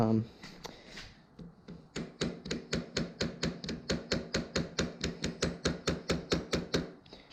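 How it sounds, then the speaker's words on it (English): A rubber mallet strikes a dirt bike brake lever repeatedly in a steady, fast rhythm, dull thuds close by, after a brief opening moment of voice and a few scattered knocks. "Time to bring out the hammer, aka rubber mallet."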